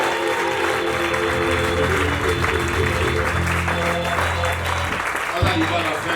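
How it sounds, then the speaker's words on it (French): Loud, sustained applause fills a church service, a congregation clapping steadily throughout with some voices mixed in beneath it. "Applaudis très fort pour nos pères"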